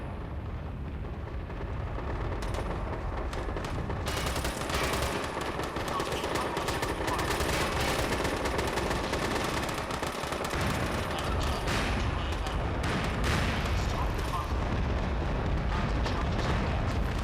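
Dense gunfire and explosions roar almost nonstop as a bunker is destroyed in a video game, with rapid machine-gun bursts and heavy blasts layered into a loud, chaotic battle wash.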